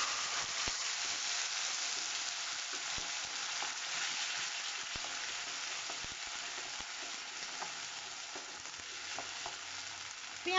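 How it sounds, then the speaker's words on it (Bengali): Onion paste frying in a pan with bay leaves and whole garam masala, cooked for a rohu fish yogurt gravy: a steady, soft sizzle with scattered light clicks, heard alone without talk. "পেঁয়াজের বাটাটা একটু ভালো করে আমি এটা ভেজে নেব"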